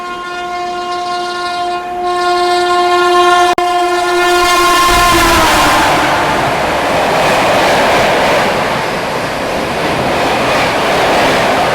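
An express train overtakes at speed alongside a running train, heard from aboard the Kalinga Utkal Express: a long horn blast sounds first, then the passing train makes a loud, steady rushing rumble close by.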